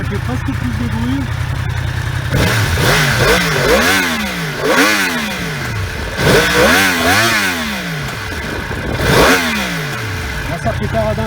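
A Yamaha R6 sport motorcycle engine idles, then revs repeatedly in sharp bursts, the exhaust crackling and popping between throttle blips; a voice talks over it.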